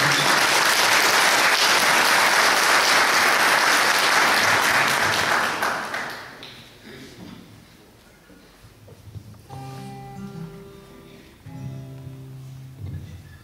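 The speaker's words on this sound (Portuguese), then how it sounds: "Uma salva de palmas." An audience applauds to welcome a performer at an evening arts event, loud dense clapping for about six seconds that fades, followed by quieter room sound with a few tonal notes.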